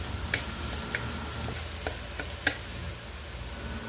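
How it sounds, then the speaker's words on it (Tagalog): Garlic sautés in a pan for Bicol Express, giving a soft, steady frying sizzle with a few scattered ticks and pops, fairly quiet and without talk. "Gigisa ko lang yan hanggang sa mag golden brown."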